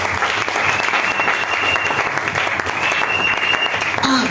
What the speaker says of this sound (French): Clap the Lord.